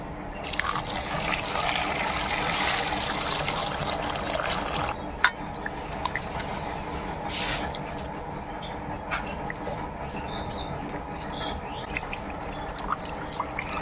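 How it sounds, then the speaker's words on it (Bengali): Grated taro (mankochu) being washed and squeezed by hand in a bowl of water, giving steady close sloshing, dripping and trickling sounds throughout, with no talk. "এবার খুব ভালো করে ধুয়ে নেব।"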